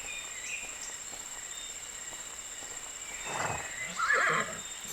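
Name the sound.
horse neighing in the video game My Little Riding Champion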